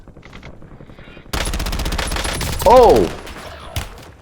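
Automatic gunfire bursts ring out in a Warzone match, a loud sustained volley of rapid shots running about two seconds with a sharp whine over it, while a player briefly exclaims.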